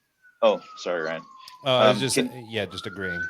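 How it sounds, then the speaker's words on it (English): A faint emergency vehicle siren wails in the distance, its tone rising and falling beneath close conversational speech from a couple of voices. "I apologize for the sirens in the background"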